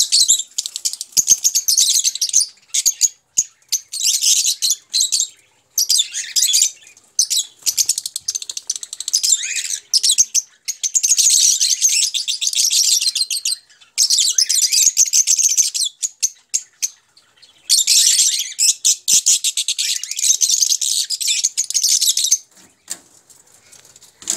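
Fischer's lovebirds, about four to five months old, chirp in a small cage setup, producing bursts of thin, high-pitched tweets and chatter that come and go in clusters with brief gaps between them.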